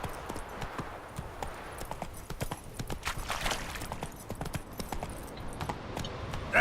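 Rhythmic clip-clop of horse hooves from a galloping mount in The Witcher 3 video game, steady and fairly close, with a faint whinny and light game ambience, no talking.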